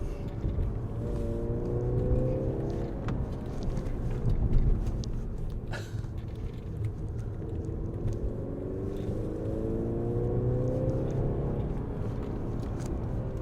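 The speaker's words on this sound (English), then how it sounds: "back here in this little circuit around the corners, accelerating, braking, all done with no problem." A Mercedes-Benz C300 4Matic engine hums low from inside the car on a small circuit, its tone rising and falling as it accelerates and brakes around corners. The sound stays fairly quiet and steady.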